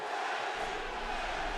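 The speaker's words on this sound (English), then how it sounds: "The crowd chants for their man." A boxing arena crowd chants for its fighter, a dense, steady roar of many voices filling the space at a constant loud level.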